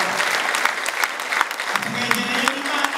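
A church congregation claps for God in a service, a lively patter of many hands with sharper individual claps standing out, and faint voices underneath.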